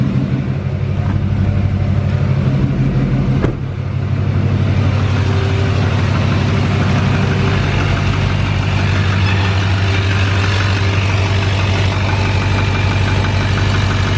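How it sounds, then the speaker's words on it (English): A 2020 Duramax diesel truck engine holds a raised high idle in a cold garage, a steady low rumble with a faint ticking knock, continuous and close, after a brief click early on. "So cold in the garage, I actually kicked up the high idle."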